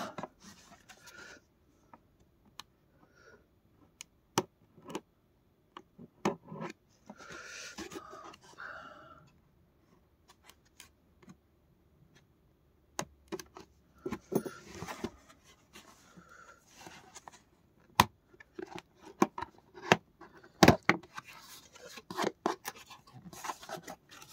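A small cardboard box being opened and unboxed, with scattered close scratches, snips, rustles and sharp taps coming in irregular bursts separated by quiet gaps, growing busier toward the end.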